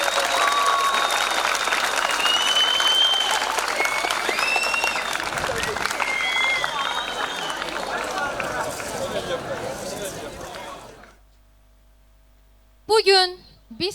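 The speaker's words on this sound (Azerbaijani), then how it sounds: "Gürültülü alqışlar." Loud, sustained applause from a crowd at a school last-bell graduation ceremony fills the hall for about eleven seconds, then cuts off, followed by a brief voice.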